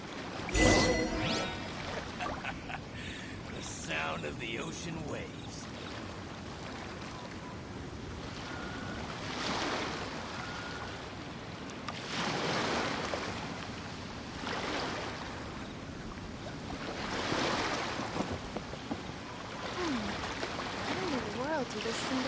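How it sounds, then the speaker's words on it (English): Ocean waves wash in and out within the video game Genshin Impact, a steady surging hiss that swells several times over about twenty seconds, with faint music and gusts of wind layered underneath. "The sound of the ocean waves."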